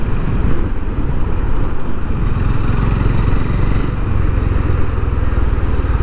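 A Honda H'ness CB350 motorcycle's engine runs and revs while riding, a loud continuous thrum with rising and falling pitch heavily mixed with buffeting wind across the microphone.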